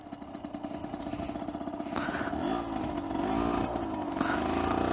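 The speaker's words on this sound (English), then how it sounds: "I'll do a quick emergency brake." A 2009 Aprilia RX50 motorcycle under an emergency brake gives a close, buzzing engine note that rises and then shifts in pitch as it slows, with wind rumble and no speech.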